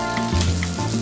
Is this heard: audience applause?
no